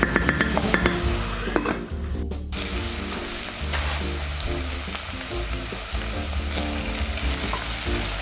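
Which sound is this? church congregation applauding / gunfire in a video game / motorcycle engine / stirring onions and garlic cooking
stirring onions and garlic cooking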